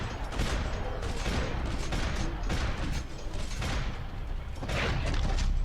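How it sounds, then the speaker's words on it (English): Sustained heavy gunfire in the Max Payne 3 video game rattles in thick overlapping bursts, loud and close throughout, with short dips between volleys and a sharper burst near the end. "who's shooting at me?"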